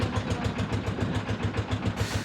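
A trawler boat engine in the rainy Sundarbans runs with a steady, loud, close chugging beat, its low rhythmic pulses continuing without talk.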